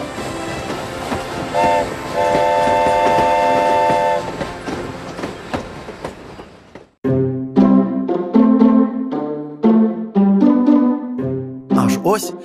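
A narrow-gauge train horn in the Carpathians sounds in long sustained blasts at first, then in a series of short, loud, pitched hoots as wheels rumble beneath.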